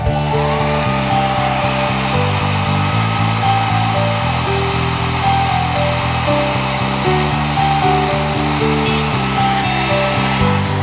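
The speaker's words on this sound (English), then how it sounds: "if I'm warming it with the hairdryer" A hair dryer blows steadily and loudly throughout, a continuous whirring hum with shifting tonal motor pitch and no voices, warming guitar nitro finish.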